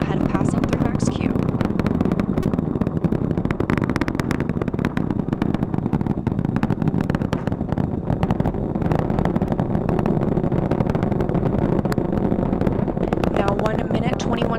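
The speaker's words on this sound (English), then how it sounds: "The 4 core stage engines are back at maximum thrust." NASA's SLS rocket, its four core stage engines firing during the Artemis I launch, delivers a loud, constant, crackling roar that rumbles through the whole stretch without letting up.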